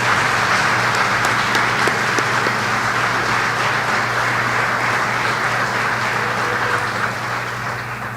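An audience at a city and county address claps in sustained, loud applause that holds steady and then slowly tapers off, with a low hum underneath.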